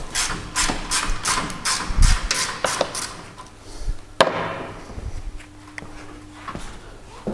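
A wrench works the final bolt from a transfer case mount bracket on a Mitsubishi L200 4x4, producing a run of quick metallic ratchet clicks followed by a sharp knock and scattered clanks.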